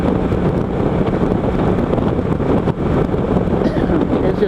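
Roaring wind buffeting the microphone while riding a Kawasaki Versys 650 LT touring motorcycle on an interstate highway, a loud, steady broadband rush filling the whole clip with no talking.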